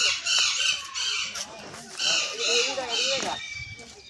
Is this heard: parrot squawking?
yes